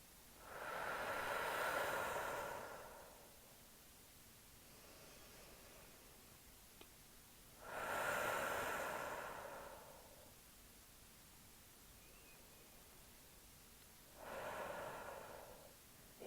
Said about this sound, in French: vous allez commencer par prendre 3 grandes respirations bien amples